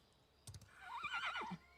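A horse in the Ashes of Creation video game whinnies once, a clear wavering neigh preceded by a few hoof clops, fairly faint and alone.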